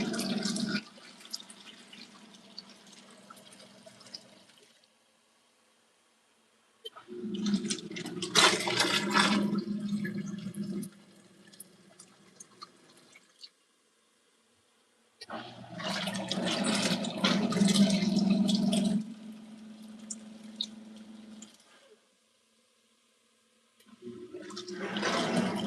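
An LG ThinQ MEGA washer runs the first rinse of its shoe wash cycle, with bursts of rushing, splashing water separated by quiet pauses as the drum turns and refills.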